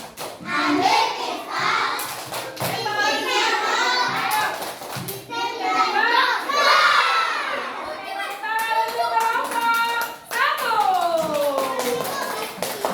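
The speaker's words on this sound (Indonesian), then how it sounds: "Tepuk pistol ya, tepuk pistol." A group of teachers and participants in a training session does a tepuk pistol clapping chant, with rhythmic hand claps mixed with lively voices chanting and shouting together for the full length.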